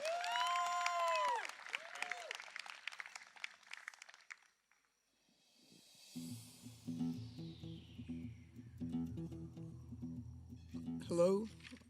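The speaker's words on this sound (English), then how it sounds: "Give them a huge round of applause, ladies and gentlemen" Audience applause at a live show: a dense wash of clapping swells in after a short quiet stretch and continues to the end, mixed with music and a voice talking over it.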